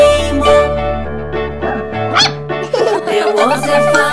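A cartoon-style dog barks several times in quick yips within a nursery rhyme about a farmer's dog, the barks sitting over a sung melody with steady music underneath.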